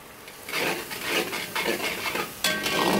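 Tomatoes and curry leaves saute in a pan for an Andhra fish curry, with a steady sizzle under repeated scraping and stirring strokes of a utensil against the pan.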